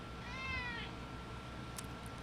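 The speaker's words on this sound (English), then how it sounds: "This cat needs my full attention, clearly." A house cat gives a single clear, rising-and-falling meow close by, faint overall against a soft room hiss, followed by a brief click.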